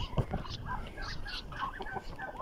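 Free-ranging farmyard chickens, out of their pens with ducks and rabbits nearby, cluck in soft scattered bursts close by, with a brief sharper peep near the start.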